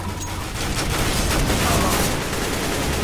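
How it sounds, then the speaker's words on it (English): Rapid gunfire from the video game CS:GO during a competitive matchmaking round, a dense continuous burst of shots that fills the whole stretch at steady loudness, with a voice faintly mixed underneath. "I'm getting shot at."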